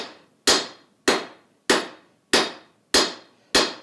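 Hammer blows on hot steel while forging a slitting chisel at a blacksmith's anvil: seven sharp, evenly spaced metallic strikes, each ringing briefly before the next, close and clear.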